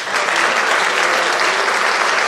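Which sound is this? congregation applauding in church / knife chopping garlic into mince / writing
congregation applauding in church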